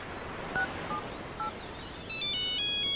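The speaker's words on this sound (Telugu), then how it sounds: "గదేంది ఏమే ఫోన్ చేస్తుంది?" A phone rings with an incoming call in a Telugu film scene: a few short, soft electronic beeps are followed near the end by a louder, close, repeating multi-tone electronic ringtone over a quiet room, with no talking.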